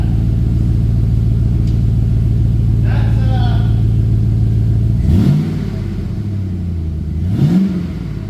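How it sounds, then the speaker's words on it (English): A 2002 GMC Yukon XL fitted with a Flowmaster American Thunder catback exhaust throbs with a loud, deep, steady rumble for about five seconds, then eases into a lower drone while voices talk over it. "Sound of the muffler."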